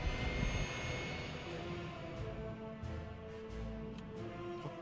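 Distant, steady jet engine hum of an airliner throttling up in Workers & Resources, a faint sustained roar with a low rumble that swells slightly partway through.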